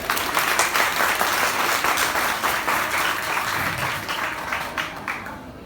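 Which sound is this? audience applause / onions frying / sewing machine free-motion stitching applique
audience applause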